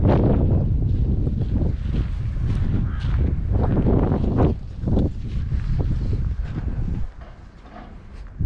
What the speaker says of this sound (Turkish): Felaket rüzgar.